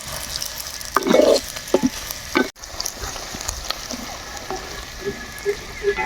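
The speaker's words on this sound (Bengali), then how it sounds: "পেঁয়াজগুলো নাড়িয়ে নিব ভালো করে ভাজি নিব" Chopped onions fry in hot oil while being stirred, giving a continuous crackling sizzle broken by scraping and clinking strokes from the stirring utensil, close and fairly loud.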